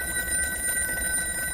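A telephone rings with a bright, sustained bell tone that pulses evenly throughout, close and clear with no voices.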